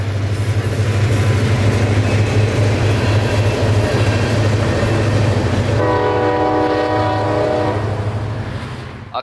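Freight train A782 heading north to Wildwood with three empty hoppers and plenty of locomotive power roars past close and loud, engines droning steadily, then a long multi-tone horn blast sounds before the noise begins to fade.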